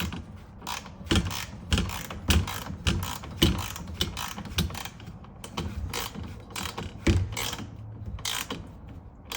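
A ratchet tightens a fastener while a Radd Raxx system is installed, giving repeated close clicking and creaking strokes in an uneven rhythm with short pauses between them.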